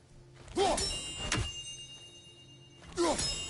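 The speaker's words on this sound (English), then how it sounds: "Do you just like hearing the sound of the chimes?" Chimes ringing in the God of War video game, several sustained bright tones shimmering and slowly decaying between soft thumping game sounds.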